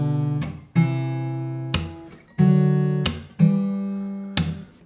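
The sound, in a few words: guitar chords with third played in same octave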